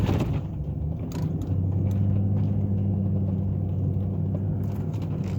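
A snow plow truck's engine idles and rumbles close by, a steady low droning hum with occasional mechanical knocks, no talking over it.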